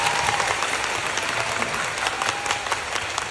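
Sustained, loud applause from a theatre audience after a musical performance, dense and steady throughout with faint voices mixed in.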